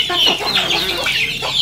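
Free-range native backyard chickens, a quick burst of several close clucks and squawks in uneven succession, loud and brief with no talk.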